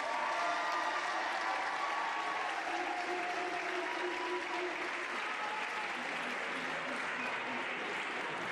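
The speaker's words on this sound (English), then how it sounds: "One more round of applause for them, please." A school Decision Day audience gives teachers a round of applause, dense and sustained clapping from a large crowd that carries on evenly from start to finish.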